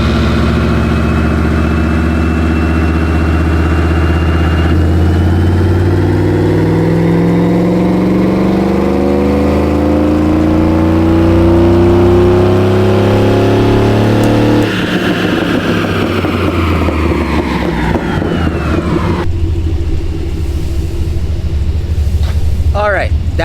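A supercharged 5.3-liter V8 in a Chevrolet Silverado roars under load on a dyno, climbing steadily in pitch through a long sustained pull, then drops back to a rumbling idle with a brief blip.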